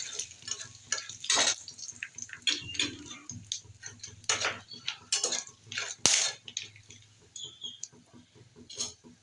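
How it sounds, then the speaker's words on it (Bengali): Whole spices (bay leaf, dried red chillies, cumin seeds, cinnamon, star anise and peppercorns) fry in hot oil for a tempering, giving faint crackling, sputtering and light clinks from the pan, with no talking. "ফোড়নটা ভেজে নেব ভালো করে।"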